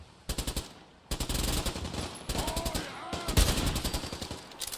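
Rapid automatic gunfire in Fallout 4, fast rhythmic bursts of shots repeating in several strings with brief pauses, loud and close.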